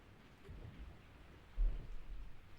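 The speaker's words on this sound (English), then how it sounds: "I woke up to the sound of falling rain." Falling rain in the video game Resident Evil 3: Nemesis, a faint soft hiss of rain with low rumbling swells and a brief deeper thud like distant thunder, no speech.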